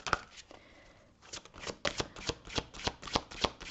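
Tarot cards are shuffled close by: a soft riffle at first, then a run of about a dozen crisp, evenly spaced slaps of cards being cut and tapped together.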